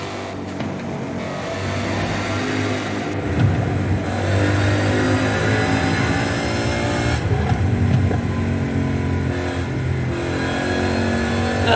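A new Ford Mustang engine revs loud and close, a steady roaring drone that rises and swells in surges, with no talking over it.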